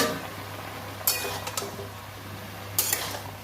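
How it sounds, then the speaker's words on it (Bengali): A metal lid is lifted off a cooking pot of simmering mutton-fat curry with bottle gourd, potato and peas, giving two short clattering clinks a couple of seconds apart over a low steady kitchen hum. "ঢাকা দিয়ে দেবো ঢাকাটা খুলে দেখব"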